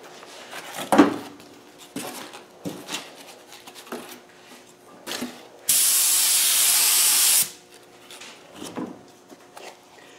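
A paint spray gun hisses onto cardboard in a body-filling repair job, one loud steady burst of about two seconds between scattered handling knocks and clicks.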